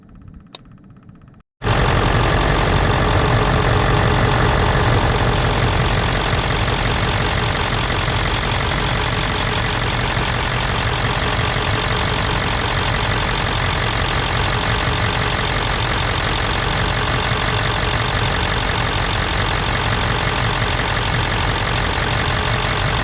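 A Ford 7.3 Powerstroke diesel engine cranks briefly and catches, then settles into a loud, steady idle with a knocking clatter that continues without a break for about twenty seconds; no talk.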